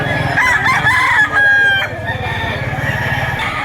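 A rooster crows loudly and close by at a poultry market in Lipa, Batangas, one long drawn-out call, with other fowl clucking and a low steady rumble underneath.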